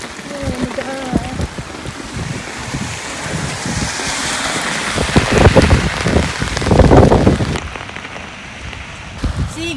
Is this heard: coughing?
no